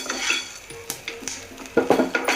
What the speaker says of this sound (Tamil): உப்பை போட்டு வறுத்துக்கலாம்